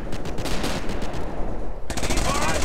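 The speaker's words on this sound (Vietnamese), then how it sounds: "Lấy súng mà bắn." Rapid machine-gun fire in a Company of Heroes battle, a dense loud rattle of bursts that pauses briefly and then resumes just as hard.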